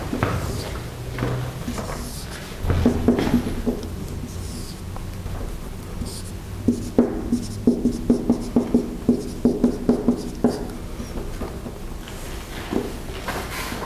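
Marker or chalk writing out a matrix on a board during an electrical engineering lecture, with scratchy strokes and a run of quick rhythmic taps near the end, no talking over it.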